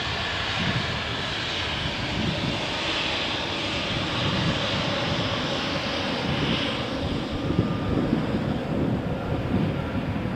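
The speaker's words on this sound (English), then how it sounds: "This is a brilliant takeoff." A jet airliner takes off from the runway at Malaga Airport on a stormy morning, a loud, steady engine roar mixed with wind buffeting the microphone, continuous throughout with no voices.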